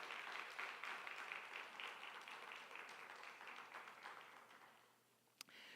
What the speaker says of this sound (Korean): 우리 큰 박수로 우리 두 분 응원해 주셨으면 좋겠습니다